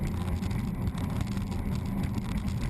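The P128 SS Panther racing powerboat runs at speed during the Crystal Coast Grand Prix at Morehead City, NC, its engines a constant roaring drone mixed with wind and water rush, fairly faint and unbroken.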